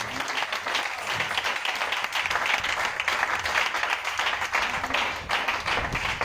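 Audience applause at an evangelistic campaign service honoring a pastor, steady dense clapping sustained throughout at full volume with a faint murmur of crowd noise underneath.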